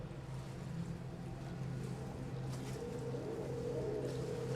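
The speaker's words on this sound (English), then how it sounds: "Another engine firing up out there." An XCAT racing powerboat engine starts up out on the water at Stresa, Italy, a steady, fairly distant low drone that holds throughout with a slight rising tone near the end.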